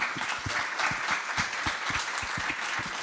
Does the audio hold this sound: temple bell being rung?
no